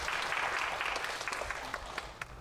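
A church congregation applauds, a dense, steady clapping that fills the room and tapers slightly toward the end.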